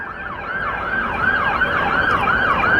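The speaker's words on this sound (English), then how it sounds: "Bunch of ambulances behind me." Ambulance sirens wail continuously in repeating rising-and-falling sweeps near Washington Dulles airport, fairly loud and steady, with road traffic rumbling underneath.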